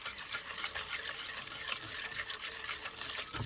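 Easter cookie batter with vanilla extract being stirred by hand, a steady scraping and swishing of the spoon through thick dough, close and continuous with small bumps of the bowl.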